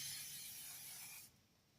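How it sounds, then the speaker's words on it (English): An aerosol can of fixative sprays over a pastel drawing, a steady close hiss lasting about a second before cutting off abruptly into quiet room tone. "So I'm going to spray it."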